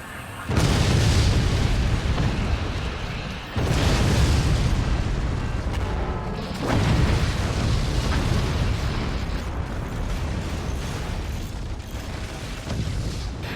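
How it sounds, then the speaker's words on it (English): Rocket and plasma weapon explosions from a Forts real-time strategy tournament match. Dense, loud booming blasts rumble continuously, with heavy impacts landing in waves about every three seconds and no pauses between them. "Rockets coming in here, dealing tons of damage from Eaton's base onto Cronkinator and the Plasma to finish off"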